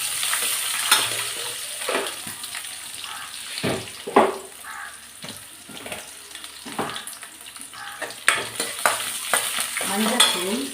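Onions sizzle and fry in a pan with a few other ingredients while a spoon stirs and scrapes them in steady bursts. The sound is close and fairly loud, and a tap runs briefly in the background. No one speaks.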